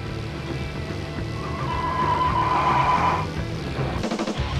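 Motorbikes racing in a video game, with a continuous roaring engine drone and a rising whine across the middle, followed by rapid rattling bursts near the end.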